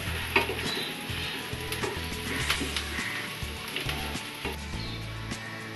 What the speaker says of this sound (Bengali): পেঁয়াজটা মোটামুটি একটু ভাজা ভাজা হয়েছে